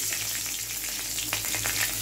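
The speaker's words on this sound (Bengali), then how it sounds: "কাঁচা লঙ্কাটা একটু ভাজা মতন হয়ে গেছে।" Green chilies fry in oil in a pan for a prawn and potato curry, giving a loud, steady close sizzle with occasional crackles and light stirring, and no one speaking.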